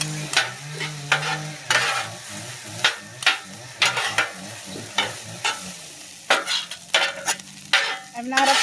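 Hibachi fried rice being stirred on a hot griddle: a steady sizzle broken by repeated scraping spatula strokes in an uneven rhythm, close and fairly loud, with no talk.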